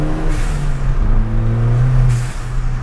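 Loud engine of a Stage 1 tuned Ford Fiesta ST revving up close, pitch climbing then dropping at a gear change before rising again, with a brief hiss of air.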